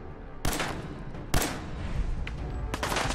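Gunfire in Fallout 4: three loud, sharp shots spaced about a second apart, each a broadband crack with a short decaying tail, over continuous game background noise.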